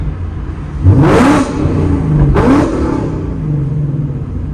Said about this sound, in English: Let's get a little rev for you guys.